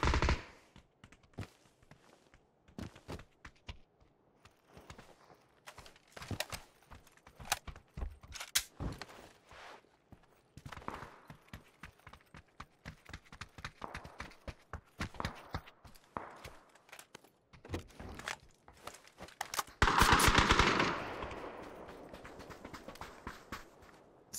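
Rapid bursts of gunfire from a PUBG match, many sharp cracks spread through the whole stretch with a few denser volleys, ending in a louder sustained blast near the end, with no talk over it.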